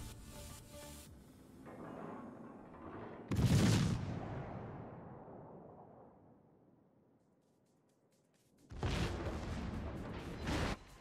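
Heavy naval guns firing in World of Warships, with a Tier VI Russian cruiser trading fire near an island; a deep broadband boom near 3.5 s rolls off slowly, and a second sustained burst of salvo fire arrives near 9 s.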